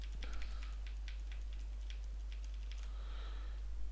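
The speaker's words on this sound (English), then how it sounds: "You just type in the content." Keys clatter on a computer keyboard in a quick, uneven run of soft, close taps, with a short burst of louder clicking near the end over a low steady hum.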